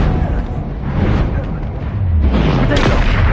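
Confringo fire spell explosions from the video game Hogwarts Legacy hit with loud booming blasts and rumbling, artillery-like cracks. A deep falling rumble swells toward the end.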